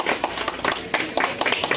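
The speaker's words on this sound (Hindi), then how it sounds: "जोरदार तालियां प्लीज जोरदार तालियां" Applause from family members at a birthday celebration at home: a couple of seconds of steady, fairly close clapping with irregular bursts of hand claps.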